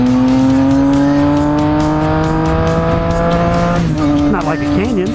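A Triumph Street Triple 765 motorcycle on a twisty road makes a loud, close engine drone that rises steadily in pitch, then drops and wavers as the rider shifts. A rider talks over the noise throughout.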